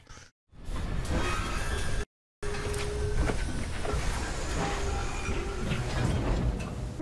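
Train rumble and clatter in Assassin's Creed Syndicate, a broad continuous rolling noise with metallic knocks and brief whooshes, interrupted by two short dropouts, loud and with no talking.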